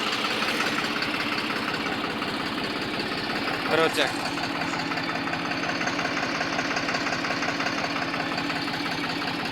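A New Holland 3630 tractor idles with a steady, loud low rumble and knocking pulse that runs throughout, with a brief voice speaking over it partway through.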